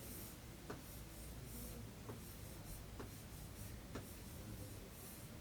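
Marker or chalk writing on a classroom board, a soft steady scratchy rub running continuously with a few faint taps at stroke starts, fairly quiet with no talk.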